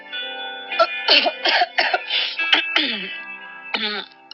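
A man coughs several times in a rapid, uneven burst, close and fairly loud, with one last cough after a short pause.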